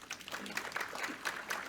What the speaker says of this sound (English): give yourself another big round of applause